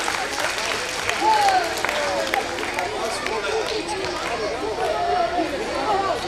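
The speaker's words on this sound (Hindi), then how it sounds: "तो एक बार फिर से तालियों की गड़गड़ाहट से इनका स्वागत कीजिए।" An audience at a winter festival stage event claps to welcome the chief guest, a sustained wash of hand claps mixed with lively crowd chatter and voices close by, swelling slightly at moments.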